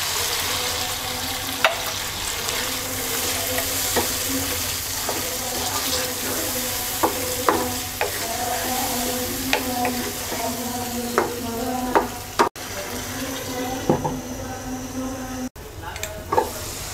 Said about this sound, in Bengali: অল্প একটু পানি দিয়ে 5 মিনিট কষিয়ে নেব